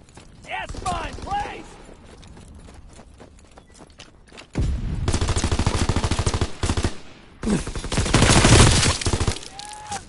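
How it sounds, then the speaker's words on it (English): Video game gunfire from an enemy aircraft strafing run, with rapid machine-gun bursts that grow loud and dense in the second half over continuous battle noise. Brief voice sounds come at the start. "Enemy strafing run inbound."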